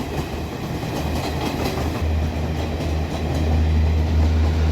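A train rumbles steadily past close by at a level crossing, wheels clattering, the low roar swelling louder toward the end.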